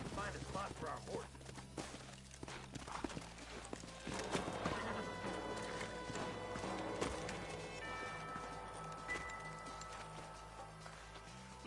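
Horses in the Red Dead Redemption video game, hooves clip-clopping at a trot with snorts and a whinny, layered under game music and character voices.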